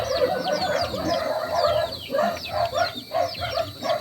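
Large, heavy Japanese Shamo chickens of the Dumpo strain cluck repeatedly in a pen, with short, overlapping calls that keep coming throughout at close range.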